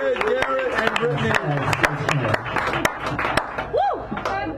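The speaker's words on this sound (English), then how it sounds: "Give him a round of applause." Scattered audience claps for a poet at a San Francisco cafe poetry hour. Sharp, uneven hand claps ring out close by, mixed with people talking over them.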